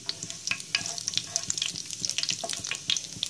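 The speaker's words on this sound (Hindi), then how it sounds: "अब हम इसमें हींग ऐड करेंगे, जीरा ऐड करेंगे और जीरे को भी हल्का फ्राई कर लेंगे" Cumin seeds and asafoetida frying in hot oil, a steady crackling sizzle with sharp pops and spits throughout, close and moderately loud, no talking.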